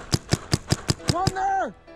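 Paintball marker firing at a castle-themed field: six sharp, evenly spaced shots in rapid succession, loud and close, followed by a brief whistle-like tone fading out.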